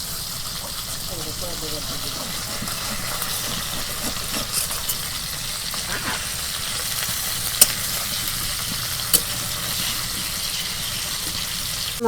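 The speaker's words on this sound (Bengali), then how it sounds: "মাছ ভাজা হচ্ছে" Fish sizzles steadily in hot oil in a pan, a continuous close hiss with occasional pops, while a person talks over it.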